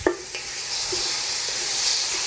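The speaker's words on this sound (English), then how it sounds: "I've got just a little bit of oil in the bottom of this, and I'm gonna brown it" Beef browns in a little oil in a pot over a low gas flame, hissing in a loud, steady, close sizzle, with a few faint stirring knocks near the start.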